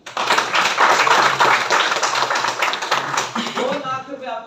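Loud audience clapping swells and fades over a few seconds, with a voice speaking as the applause dies down.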